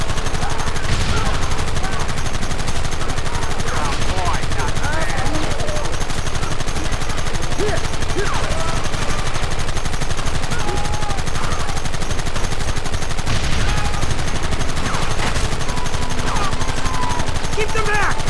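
Dense, continuous gunfire in a Red Dead Redemption shootout, with loud, close rifle and pistol shots layered over one another for the whole stretch. Shouted voices are mixed into the firefight.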